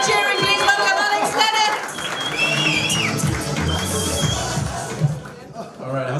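Comedy club audience at a live standup competition breaking into loud, sustained applause with whoops and cheers, crowd chatter mixed in, tapering near the end.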